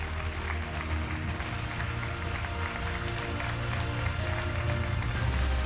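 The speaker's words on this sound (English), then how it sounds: "give yourself a round of applause for getting through what you've had to go through" An audience applauds in a hall, a continuous mass of clapping over a steady low hum or held musical tones that run underneath the whole time.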